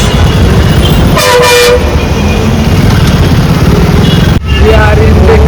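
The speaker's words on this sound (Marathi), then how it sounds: "we are in Deccan Road and this is Pune traffic" Vehicle horns honk in heavy Pune traffic on Deccan Road, a couple of short toots rising over a loud, constant roar of engines and road noise.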